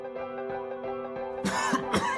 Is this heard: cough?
yes